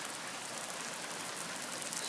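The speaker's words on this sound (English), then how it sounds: "It is raining so hard." Heavy rain pours during a January thunderstorm, a dense, steady hiss of drops hitting surfaces close by, continuous and unbroken with no voices or thunder.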